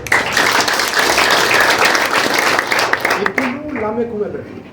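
A church congregation clapping together in a loud, dense burst that tapers off, with a voice speaking over the applause near the end.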